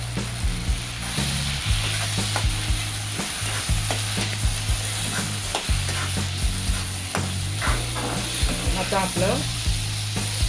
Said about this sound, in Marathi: मॅश केलेलं वांगे आतमध्ये टाकून घ्यायचं, परतून घ्यायचं सगळं।